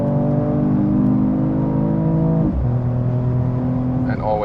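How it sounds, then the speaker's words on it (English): Mercedes-AMG E53 Cabrio with its six-cylinder engine accelerating hard, a loud, steady, rising engine drone with a single gear shift midway, then pulling on again at speed. "And now let's accelerate it out."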